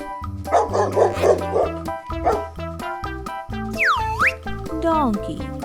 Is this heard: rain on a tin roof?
no